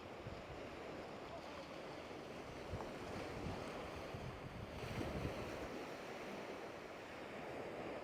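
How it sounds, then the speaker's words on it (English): Ocean waves roll onto the Florida coast in a continuous, hissing surf with soft swells rising and falling, carried under steady wind buffeting the microphone. "each wave that forms, each wave that begins that roll"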